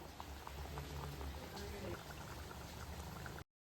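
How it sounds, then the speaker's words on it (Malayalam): Kerala-style roasted coconut shark curry bubbles in a covered pot, a steady soft simmering hiss and popping close by, cutting off abruptly at the end. "എന്നിട്ട് നമുക്കിത് തിളയ്ക്കാനായിട്ട് വെയിറ്റ് ചെയ്യാം"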